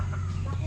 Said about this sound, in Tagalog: Hinilera ko na ulit yung mga manok natin dito, yung mga naka-scratch pin.